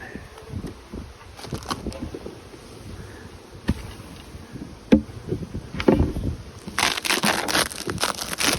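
Honey bees buzz steadily in a low drone, broken by sharp crunching and handling noises that grow denser toward the end.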